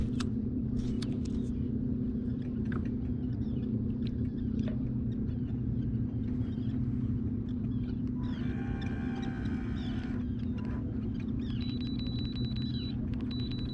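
An electric kayak motor pushes the kayak across a bay while fishing, giving a steady low hum and rumble throughout. A higher whirring layer rises in the middle, with faint water and wind noise around it.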